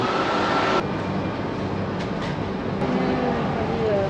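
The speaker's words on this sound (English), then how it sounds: "Our train is going to depart really soon." A train rumbles steadily with a broad, loud roar and faint squeals of wheels, heard close up with no clear speech.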